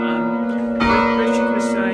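Church bells ringing in the bell tower of St Mary's Parish church in Elham, England: loud, close, sustained metallic tones with a fresh strike near the middle, ringing on without a break.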